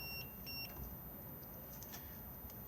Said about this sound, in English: if I press this at the moment, it will beep at us because the engine is not